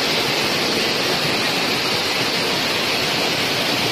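Steady rushing and splashing of a small waterfall at Roro Kuning, near a cave, filling the air with broad continuous noise at close range, alone without talk.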